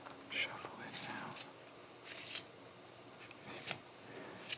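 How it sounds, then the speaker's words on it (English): A new deck of playing cards is handled and shuffled up close in a quiet room, with a few soft crisp riffles and flicks scattered among faint whispering. "I think these cards are too new to do the old shuffle in now."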